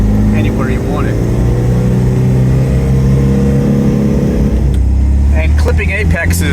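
A Porsche 914 Chalon engine drones loudly and steadily while driving, with a shift in pitch near the end, and someone speaks over it.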